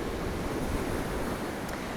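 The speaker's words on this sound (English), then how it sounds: "Look at the water coming up and onto the spillover spot." Rough sea surf surging against Blackpool's Central Pier on a windy February day, a steady loud wash of breaking waves with wind buffeting throughout, no voices.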